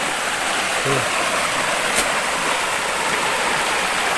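Water from a canal rushes past in a steady, loud wash, close by, with a faint voice briefly under the flow.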